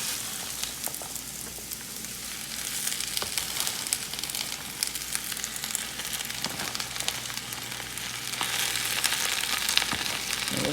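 Spinach added to softened onions fries steadily in a pan, giving a continuous even sizzle with scattered crackles that stays close and moderately loud for the whole stretch, with no one speaking.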